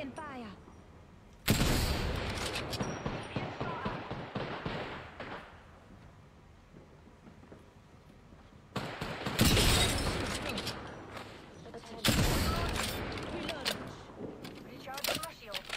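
Video game gunfire comes in bursts of rapid shots and explosive fusillades, separated by quieter stretches with background clatter, with speech mixed in.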